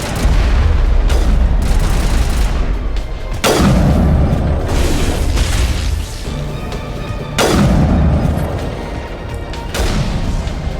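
Loud, booming blasts from a grenade explosion in the video game Mass Effect 1 Legendary Edition, with two heavy impacts spaced a few seconds apart over a dense, continuous rumble of combat noise.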